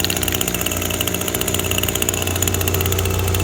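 A gas-powered weed trimmer engine runs steadily at a loud, close, buzzing drone with no pauses.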